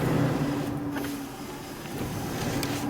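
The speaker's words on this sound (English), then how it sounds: "Because when I rev it, ooh, that goes really fast back up." A 1977 Cadillac Seville engine revs steadily, a loud continuous rumble with a slight drop and rise in pitch, close by and without talk.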